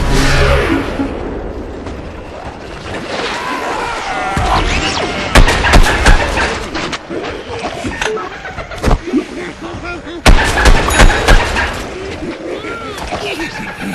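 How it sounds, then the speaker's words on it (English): Sticky explosive ball thrown by the Scientist blowing up in the Plants vs Zombies Garden Warfare shooter, with sharp booming blasts rising above a dense, busy mix of gunfire, crashes and game effects. "the Scientist just threw his sticky explodey ball"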